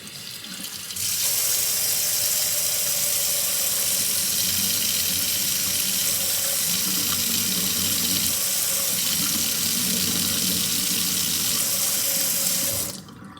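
A steady stream of tap water pours onto a spoon in a diffuser demonstration, making a continuous close splashing rush that starts abruptly, holds evenly for about twelve seconds and then cuts off, with no talking.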